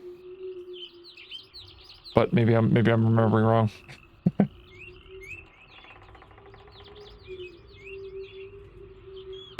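Birds chirp and tweet throughout a scene in the video game Myst, a steady scatter of light, bright calls under the ambient game soundscape, while a person speaks briefly over the middle.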